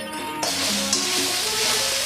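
Grated coconut and coriander leaves fry in a hot pan for a green chicken masala gravy, with a steady close sizzle that swells as the coconut goes in and then holds as a soft, even hiss.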